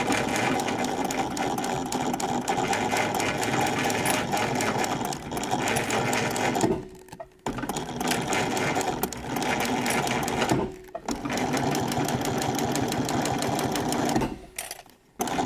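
A sewing machine runs in long, fast, steady bursts as it stitches through the layers of a leather boot cuff, pausing briefly between runs, close and loud.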